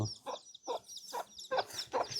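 Free-ranging chickens in a Thai village yard cluck in a series of short, separate calls about every half second, close and moderately loud.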